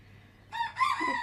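A rooster crows among chickens in a snowy yard, one short loud cock-a-doodle-doo bursting in after a brief quiet moment, with no talk.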